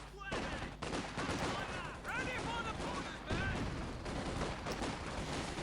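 Gunfire in a WWII strategy video game battle, with infantry sections, Volksgrenadiers and flamers in action: dense, continuous rifle and machine-gun volleys with booming bursts, loud and unbroken throughout.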